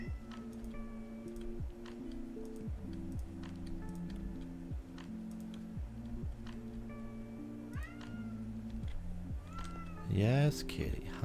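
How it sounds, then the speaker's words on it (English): A pet cat meows loudly and repeatedly over a steady background of tones and ticking, its cries rising and falling before a sharp, strained yowl near the end. "Why are you screaming again, kitty?"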